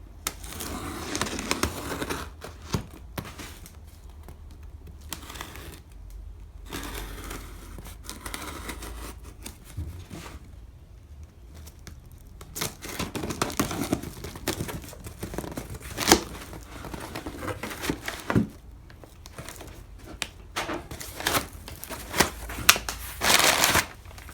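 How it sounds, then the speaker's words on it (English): A cardboard box holding a model train locomotive is cut open by hand, giving an irregular run of scraping, slicing and crinkling noises with short pauses, close and moderately loud throughout. "So we're going to get right into it with cutting the box open."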